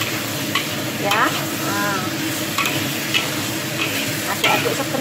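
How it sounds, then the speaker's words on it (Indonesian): Eggplant and fish with sweet soy sauce are stirred in a hot pan, a spatula scraping and clinking in irregular strokes over a steady sizzle, close and continuous. "Nah, aduk-aduk sebentar dan matikan apinya."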